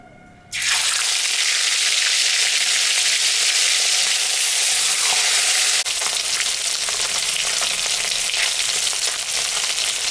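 A fish head drops into hot mustard oil in a kadai and bursts into a loud, close, continuous sizzle that holds steady to the end.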